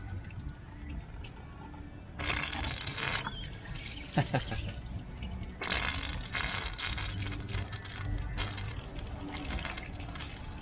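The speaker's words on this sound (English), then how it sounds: "See if I can get some water out of this steam port." Dirty water gushes and splashes from a steam port in uneven surges, with hissing spurts and drips, fairly faint and close, amid a low background hum.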